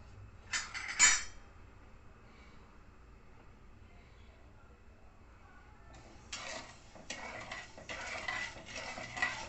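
A utensil stirs sugar syrup with heating oil and ghee in a pan for Mysore pak, giving a brief scraping clatter, a quiet pause, then a longer run of rhythmic scraping strokes.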